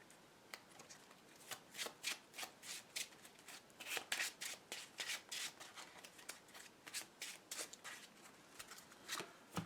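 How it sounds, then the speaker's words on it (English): Marvel Legendary game cards being shuffled by hand, a steady run of crisp riffling bursts repeating over about ten seconds, close and fairly quiet with no talk. "So now we will shuffle this and see what our next hand is."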